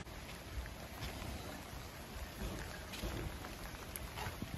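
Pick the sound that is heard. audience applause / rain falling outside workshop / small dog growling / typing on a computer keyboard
rain falling outside workshop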